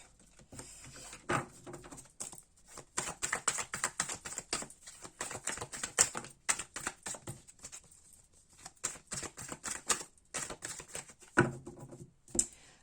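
A deck of cards being shuffled and cut during a tarot-style reading, giving rapid papery riffles and flicks in irregular bursts, fairly close and moderately loud with no talk over them.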